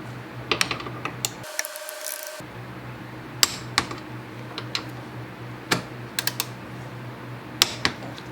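A ratchet tightens the foot peg bracket bolt on a Honda CB500F motorcycle, giving close, sharp clicks in small irregular bursts over quiet background hum.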